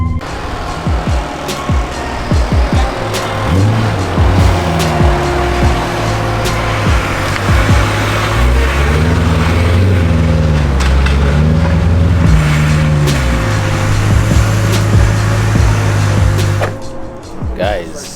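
Supercharged 700hp BMW E92 M3 in Frozen Silver, engine revving and pulling hard through repeated gear changes, a loud, close, sustained mechanical roar with rising and falling pitch sweeps, fading out at the end.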